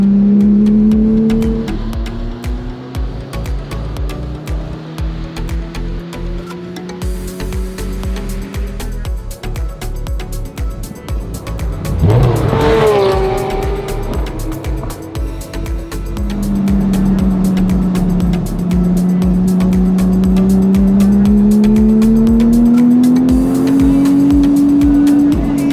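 A vintage Porsche engine at a car meet on Clark Speedway in the Philippines, revving loud and close in long sustained rising and falling pulls, with a sharp burst of throttle midway.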